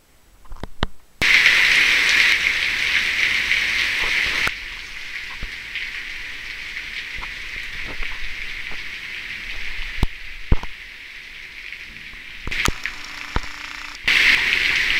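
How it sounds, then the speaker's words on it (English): Heavy rain pours down outside on a porch as a steady dense hiss, loud and close, holding throughout with a few brief clicks and knocks and no talking. "But you can see it's really raining."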